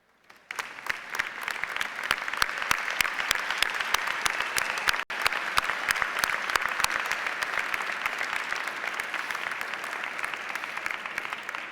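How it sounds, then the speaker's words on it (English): Graduating students at a 2003 high school graduation ceremony stand and applaud their parents, producing sustained, loud and dense clapping that fills an indoor hall for the whole stretch after a brief quiet start. "give them a big round of applause."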